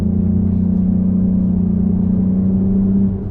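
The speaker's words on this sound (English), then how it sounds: "It's definitely accelerating faster." A tuned Toyota Camry accelerating, heard from inside as a steady, loud, droning engine hum that holds one pitch and eases off at the very end.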